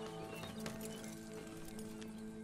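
Horse hooves clip-clop steadily in the Red Dead Redemption 2 video game, a quiet rhythmic clatter of a ridden horse under a faint musical backdrop.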